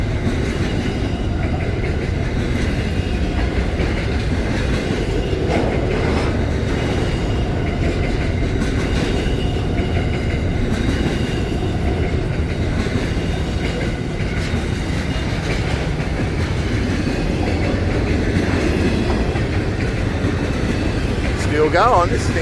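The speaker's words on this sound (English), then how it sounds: "It's a big train." A long Aurizon double-stack freight train rolls past on a curve, with continuous rumbling and rhythmic clickety-clack of wagon wheels, a brief squeal near the end, and people talking over it.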